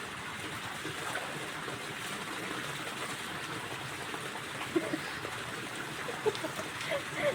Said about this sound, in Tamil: லைட்டாக தண்ணி வருது